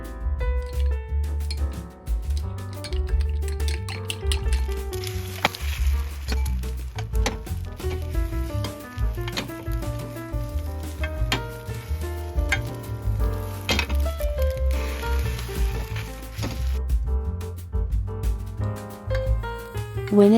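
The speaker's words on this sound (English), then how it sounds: "Make an omelet by adding soup stock to 2 eggs." Egg omelet mixed with soup stock sizzling and frying in a pan, a steady loud sizzle throughout with occasional stirring and light clinks, under continuous background music.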